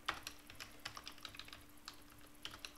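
Quiet, close clicking of keys on a computer keyboard during programming work, irregular taps and short bursts with soft pauses between them.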